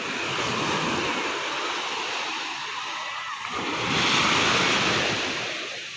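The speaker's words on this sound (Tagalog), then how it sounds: "Alon." Steady roar of ocean surf, loud and continuous, swelling toward the end as a wave breaks.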